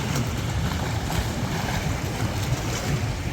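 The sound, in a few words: waves on the water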